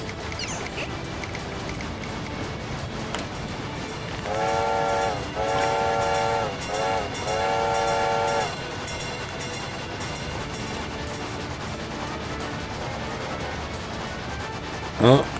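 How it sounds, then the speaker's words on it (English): A train in a video game passes by, its horn sounding in several sustained tonal bursts midway over a steady rumbling background, fairly loud and close. "Oh, got a train coming."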